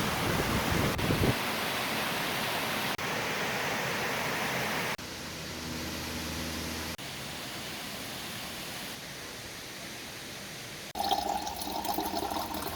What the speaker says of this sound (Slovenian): Izvir Hublja, vir pitne vode za Ajdovščino in vir energije za hidroelektrarno.